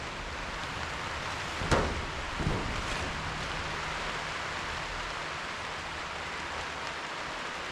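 Steady rain falling on tarps over a container house build site in winter, a constant hiss throughout with a couple of brief louder knocks near the start.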